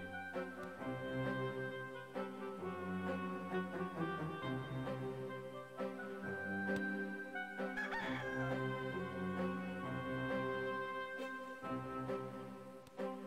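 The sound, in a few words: rooster crowing in the Discworld 2 video game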